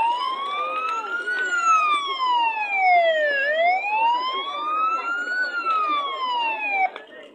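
A fire engine siren wails in slow rising and falling sweeps, clear and steady, heard at moderate distance over faint background noise.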